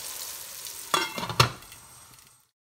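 Tomatoes, onions and garlic cooking in a pan give a faint, low sizzle, broken by two sharp clinks of metal close together, before the sound fades to silence.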